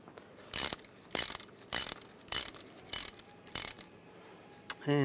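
Ratchet driving in the bolt on a wheel speed sensor of a 1995-2001 Ford Explorer, six loud, evenly spaced bursts of clicking close up, then a short pause and a brief final rattle.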